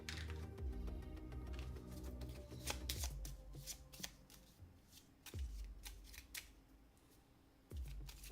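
Someone shuffles a deck of cards while playing the Etherfields board game, producing soft, close riffling and rustling that ends in several distinct snaps, with no talk.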